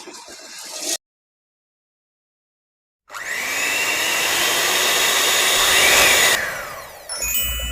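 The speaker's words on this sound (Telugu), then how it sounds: "ఇవి పూర్తిగా చల్లారిపోయిన తర్వాత మిక్సీ పట్టేసుకోవడమే" A kitchen mixer grinder whirs loudly and steadily after a short pause, its high motor whine cutting off near the end.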